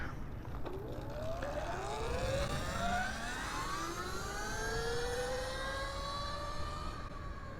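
A 72v Sur Ron BAC4000 electric motorbike fitted with a 64t sprocket, its motor letting out a loud, rising whine that sweeps upward and then holds high over a rough background rumble.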